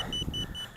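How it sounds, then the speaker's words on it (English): A short run of high electronic beeps from a Helifar X140 Pro 140mm FPV racing quadcopter as its battery connects, several quick tones repeating in a steady pattern over a low background hum. "it's beeping."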